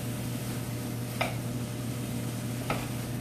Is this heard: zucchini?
yes